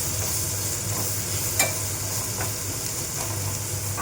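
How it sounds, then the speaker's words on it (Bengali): Onion and green chilli fry steadily in a hot pan, a constant close sizzle with occasional stirring scrapes and no talk. "পেঁয়াজটা লঙ্কাটা ভাজা হয়ে গেছে"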